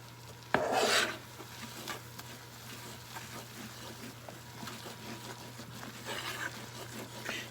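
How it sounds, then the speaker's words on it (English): Flour being stirred into gravy with grease in a pan: a close, soft rasping scrape of a utensil against the pan, one louder burst at the start, then steady quiet rubbing over a low hum. "Stir that up."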